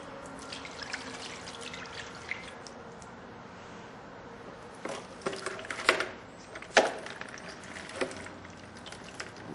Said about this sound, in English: Let me dump this water out.